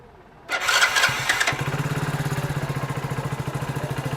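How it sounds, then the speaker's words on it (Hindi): A Hero Splendor BS6 motorcycle engine cranks and fires, catching after a brief starter burst and settling into a steady, close, rhythmic single-cylinder idle with no talking. "तो बाइक को हम स्टार्ट करते हैं।"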